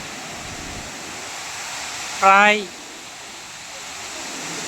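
Hundru waterfall near Ranchi makes a steady, broad hiss of falling water, heard from a distance and unbroken throughout, with one brief voice rising over it midway.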